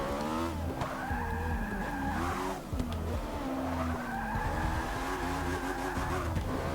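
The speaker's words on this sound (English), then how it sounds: "I love it when you wheel spin cars" A race car in Forza Motorsport 6 spins its wheels, its tires squealing in long, wavering screeches over a steady engine roar, loud and close, with no voices.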